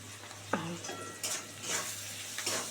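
Spices sauté in a pan for a tangra fish curry, a soft sizzle broken by a few scraping stirs and clinks of a spoon against the pan, close and without speech.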